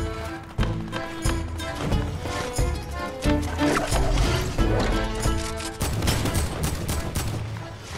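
A Tommy gun fires in Fortnite in repeated close, loud bursts with a clattering rhythm, mixed with other overlapping gunfire and game noise throughout.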